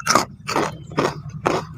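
Loud, close crunching on crispy fried chicken skin, four sharp bites or chews at a regular rhythm about half a second apart, each a dry crackly burst with quiet gaps between.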